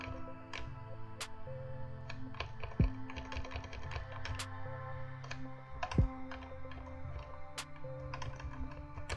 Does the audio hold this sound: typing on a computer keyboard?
yes